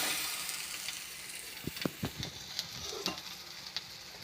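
Ragi flour adai batter sizzles faintly on a hot dosa griddle, a soft hissing bed with a few sharp crackles and pops scattered through it.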